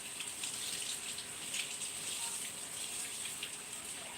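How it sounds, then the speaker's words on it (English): Tap water running over raw pork ribs in a kitchen sink, a steady close hiss and splash of the stream with slight spattering as the meat is rinsed, no talking. "I'm washing off my ribs."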